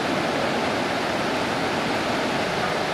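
Rushing river water during a wildebeest migration crossing in Kenya, a steady, loud, broadband roar of churning current with no breaks.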